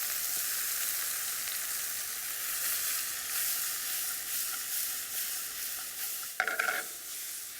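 Bacon with added ingredients sizzles steadily in a pan, a continuous loud hiss with a brief burst of clatter near the end; no voices.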